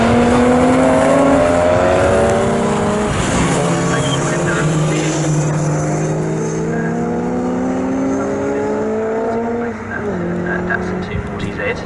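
Racing cars, a Lotus Elan S2 and a Triumph, at Snetterton circuit, engines revving loudly with rising and falling pitch as they pass close by, one note sweeping down, under a commentator's voice.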